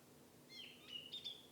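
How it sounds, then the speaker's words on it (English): Birds sing faintly on a peaceful morning at a landscape and wildlife photography spot, a few thin high chirps and whistles rising over quiet background hiss. "there's a lot of birds singing for me."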